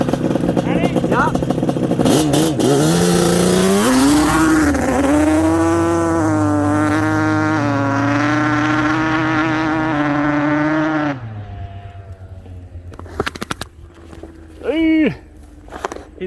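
A quad ATV engine revs hard and climbs through the gears, its rising and dropping pitch loud and close for about eleven seconds before easing off, with a brief rev again near the end and people talking around it.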